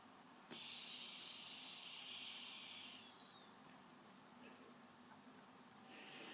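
An e-cigarette on a small, partly charged battery gives a steady vapor hiss lasting about two and a half seconds, then fades to a quieter background; a second faint hiss starts near the end, and nobody talks.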